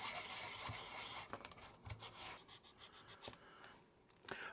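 Hand sanding of putty on a U.S.S. Reliant model kit, working through fine grits around 240, gives soft, faint, irregular scratchy strokes close by with no talking.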